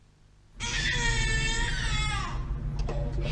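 An infant cries and screams in a cot, bursting in suddenly and loudly, then continuing as a sustained, strained wail with no talking.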